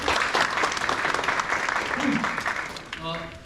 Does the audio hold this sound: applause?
yes